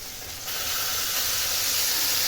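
Steam hisses steadily from a pan of bele fish paturi as its lid is lifted, a broad airy rush that swells after a brief quieter start and holds on, fairly close and with no talk over it.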